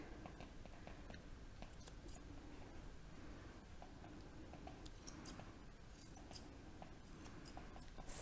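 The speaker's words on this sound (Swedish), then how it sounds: "Så jag börjar med att klippa tassen." Scissors snip a dog's paw fur during grooming, a steady run of quiet, close, crisp clips repeating throughout with no talking.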